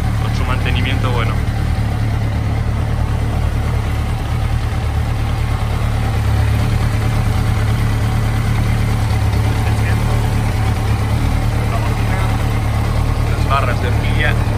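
A 1999 Yamaha XJR 1300 motorcycle engine idles steadily nearby at about 1000 rpm, a low even rumble with constant pitch, with faint voices briefly audible in the background.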